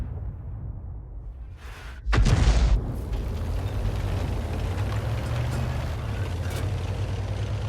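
A 105 leFH18B2 artillery shell slams home in a tank game, one sharp loud boom about two seconds in over a steady rumbling engine bed that carries on after the blast.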